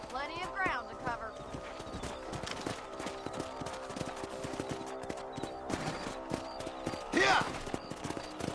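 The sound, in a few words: horse hooves galloping in the video game Red Dead Redemption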